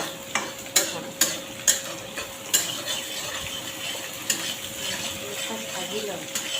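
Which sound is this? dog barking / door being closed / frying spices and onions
frying spices and onions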